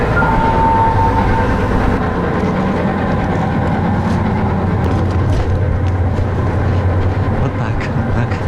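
Freight train wagons rolling on a Russian rail line: a loud, steady low rumble with faint clanks and clicks and a hum that lasts throughout, with people talking in the background.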